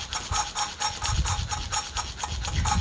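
Fine lapping paste grinds a valve against its seat in an Alfa Romeo Alfasud 1.5 TI Quadrifoglio Verde cylinder head. A close, gritty rasping repeats in steady back-and-forth strokes about three times a second, with no voices.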